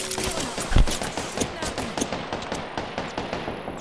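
Rapid automatic gunfire from a Hemlok burst rifle in the shooter game Apex Legends, a dense stream of sharp shots and impacts layered with other battle noise, with voices talking over it.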